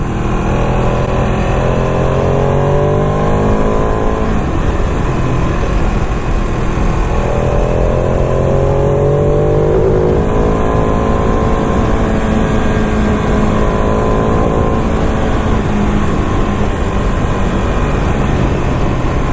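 A Ducati 959 motorcycle engine on a test ride: a loud, continuous droning roar with wind rush, holding steady with small shifts in pitch throughout.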